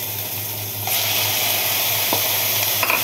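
Pork with garlic sizzling in a hot pan for fusilli pasta with Campbell's soup, a steady frying hiss that grows louder partway through, with a few light stirring clicks and no talking.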